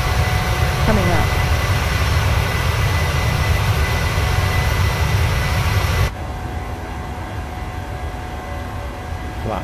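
Jet engines of a PMDG 737 in a flight simulator game roar steadily just after takeoff, a loud broadband rumble that suddenly drops to a quieter hum, with cockpit voices calling out over it.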